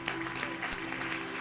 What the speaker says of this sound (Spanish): Le damos un aplauso de agradecimiento al Señor.